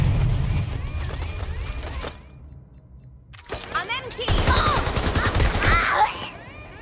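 Gunfire in the game Watch Dogs Legion comes as bursts of shots amid busy game sound, with a quieter lull in the middle and a voice speaking over parts of it.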